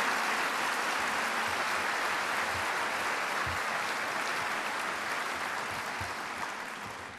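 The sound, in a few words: audience applause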